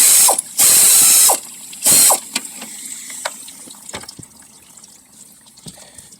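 A ratchet loosens the last bolt during a water pump replacement on a 2010 Toyota Prius. It opens with two loud rapid clicking bursts, then light metallic taps and small clinks from the workshop follow, with no voices.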